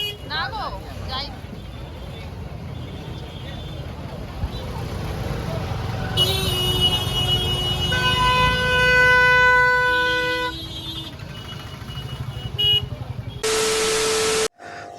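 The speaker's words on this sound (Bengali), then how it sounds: "রাস্তায় ভীষণ জ্যাম, আমাদের জ্যাম রাস্তায়।" Heavy road traffic jam with a steady rumble of engines, several car horns honking in overlapping tones midway and one loud sustained blast near the end, with voices talking underneath.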